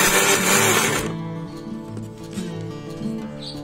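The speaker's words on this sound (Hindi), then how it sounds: "अब मिक्सर ग्राइंडर के मसाला ग्राइंडिंग करने वाले इस तरह के ब्लेड वाले जार में थोड़ी थोड़ी हल्दी डालकर" A mixer grinder whirs loudly as its bladed masala jar grinds turmeric, then the motor winds down and keeps spinning with a lower steady hum.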